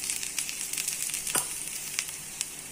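Besan cheela fries in ghee in a hot pan, a dense, continuous sizzle with crackling pops, close and fairly loud with no voices over it.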